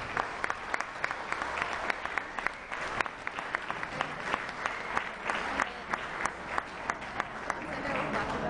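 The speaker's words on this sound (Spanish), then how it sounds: "Un fuerte aplauso." Applause at a music festival for performers of a folk song cover, a fairly quiet crowd clapping with sharp individual claps standing out, while voices murmur underneath.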